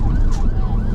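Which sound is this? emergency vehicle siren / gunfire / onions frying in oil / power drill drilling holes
emergency vehicle siren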